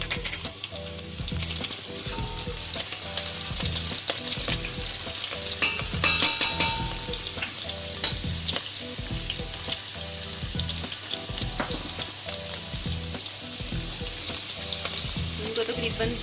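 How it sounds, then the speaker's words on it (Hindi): Sliced green chilies and ginger fry in hot oil for dhaba-style spicy aloo gobhi, with a loud, continuous crackling sizzle and busy spatter that hold steady throughout, punctuated by stirring clatter. "इनको तकरीबन आधे मिनट के लिए इनको हम फ्राई करेंगे।"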